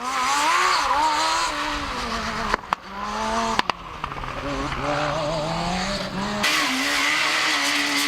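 A Formula SAE race car runs solo on a tight autocross course at the 2005 FSAE-A competition. Its high-revving engine is loud and close, with the pitch rising and falling through quick gear changes and throttle lifts, and there are brief sharp breaks between.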